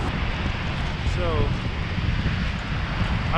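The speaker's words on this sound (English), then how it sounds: "this view is pretty beautiful of these waves splashing" Constant roar of ocean surf and wind close by at Olympic National Park, waves washing continuously with no distinct breaks, loud and full throughout.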